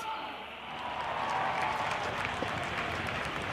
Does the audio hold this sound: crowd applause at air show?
yes